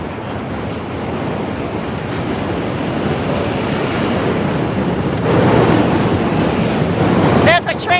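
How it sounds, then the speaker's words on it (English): A broad, steady rumble of a passing train on a city street in New York's Lower East Side, fairly loud and continuous, with wind buffeting the microphone and a brief screech near the end. "There's a train going by."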